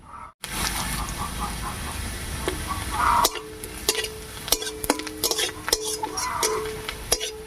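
Onion and garlic sizzle steadily in a pan as a utensil stirs and scrapes with repeated clinks and taps against the metal, while cooking village-style masoor dal.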